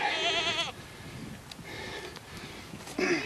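A goat bleats loudly and close at the start, then quieter shuffling and snorts follow before a second bleat near the end, with no talk.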